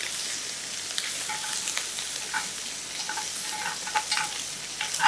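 Napa cabbage sizzles and spits in a skillet over medium heat, a continuous crackling hiss broken by scattered pops and the scrape of two spoons turning it.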